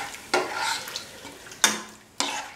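A spoon stirs parsley chicken stew with added water in a pot, close and clear, with three sharp scraping strokes against the pot amid a soft bubbling, sizzling wash.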